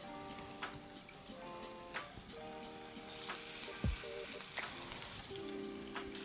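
Skinless chicken drumsticks sizzle in a hot skillet, giving a steady, soft crackling hiss with scattered pops that runs quietly throughout, with faint tonal background sound underneath.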